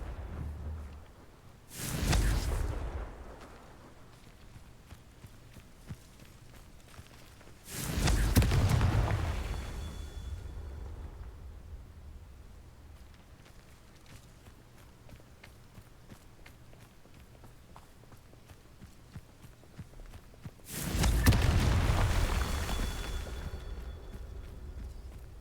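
Three loud fiery blasts from the Confringo spell in Hogwarts Legacy, each a deep booming burst with a rushing tail, separated by long quiet stretches of ambient game sound.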